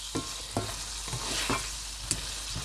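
Home-canned dry-pack potatoes frying in butter in a pan, a close continuous sizzle punctuated by a few soft stirring clacks, with no voices.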